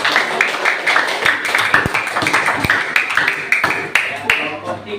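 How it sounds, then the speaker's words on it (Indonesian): Classroom applause for student group 2: a light, uneven patter of clapping hands from a group of students, close and fairly loud, running for several seconds. "Silakan berikan tepuk tangannya untuk kelompok 2"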